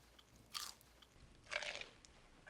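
Crunchy Southern fried okra being bitten and chewed, two distinct close crisp crunches about a second apart, quiet otherwise with no talking.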